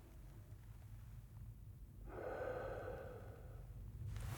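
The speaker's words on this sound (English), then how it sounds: "give me a deep breath in and out" Deep breathing during a doctor's check-up, close and quiet: a faint inhale, then a longer, louder breath out that carries on to the end.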